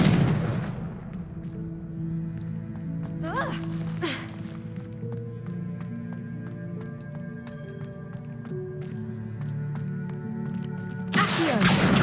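Confringo blasting spells from Hogwarts Legacy go off as sharp explosive bursts, one at the very start and another near the end, with sustained game music tones in between.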